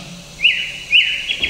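A nightingale-like song of two clear, loud rising whistled chirps a half second apart, then a softer trailing note, with no voices.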